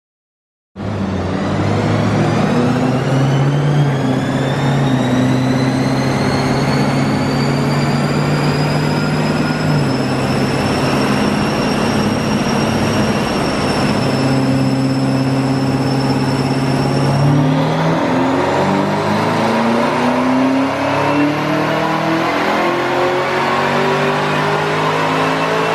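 A 2017 Chevrolet Camaro ZL1 engine on a dyno pull roars loudly and continuously for about 25 seconds, its pitch climbing steadily through the gears with a distinct shift near the end before rising again.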